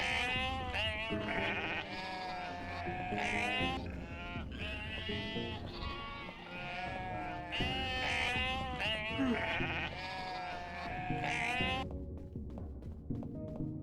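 Sheep in the video game Unmetal bleat over and over, several overlapping loud, wavering calls running almost continuously alongside game sound, with no speech.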